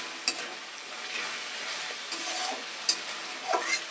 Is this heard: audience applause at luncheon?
no